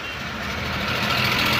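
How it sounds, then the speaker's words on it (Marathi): Suzuki Carry driving in first gear after a gear wire change, a steady close engine drone that slowly grows louder, smooth and unbroken with no voices. "बघू शकता फर्स्ट गिअरवर गाडी चालली एकदम स्मूथमध्ये"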